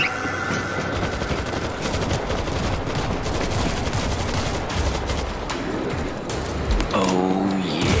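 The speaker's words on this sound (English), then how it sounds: "Auto turret ready for action." An automated turret in World War Z keeps firing in rapid, continuous bursts of machine-gun fire throughout the Moscow chapter fight, loud and close, with brief voices mixed into the chaos.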